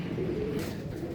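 A pigeon coos softly nearby, a short low throaty call over a dull background hum.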